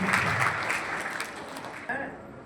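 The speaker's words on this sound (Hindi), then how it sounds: "बहन के लिए जोरदार ताली" An audience claps for a student at an annual exam results ceremony. The dense applause lasts about two seconds and ends abruptly, with some voices mixed in.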